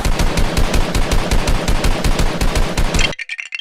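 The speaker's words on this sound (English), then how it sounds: "let's try shooting the glued house with this Nerf gun" A Nerf gun fires a rapid, rhythmic burst of shots at a glued toy house, loud and close, the repeated pops ending abruptly into near silence with faint trailing clatter.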